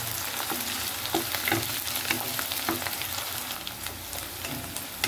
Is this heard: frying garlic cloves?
yes